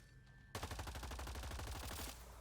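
Rapid automatic gunfire in Mass Effect Andromeda, one sustained fast burst of loud close shots that starts abruptly and runs for about a second and a half before stopping.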